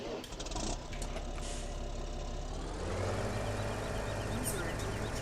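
A tractor engine in Farming Simulator 17 rumbles steadily at low pitch, idling and then rising slightly, with a voice talking faintly over it.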